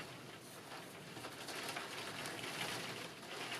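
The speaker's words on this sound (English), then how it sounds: "You can probably hear it's raining quite badly." Heavy rain falls outside, a steady, diffuse hiss heard from indoors that builds gently over a few seconds.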